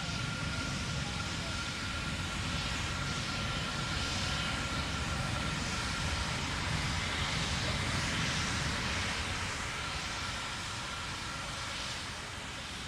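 Terran 1, a 3D-printed rocket, roars steadily through its ascent: a dense, continuous broadband rumble that holds constant and loud for the full stretch, with no clear breaks.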